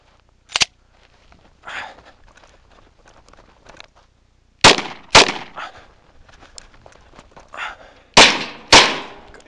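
Sharp, loud handgun shots from a Glock 23 and a Kimber 1911 during a shooting drill ring out outdoors, mostly in quick pairs: one early shot, then two doubles, with softer clatter between.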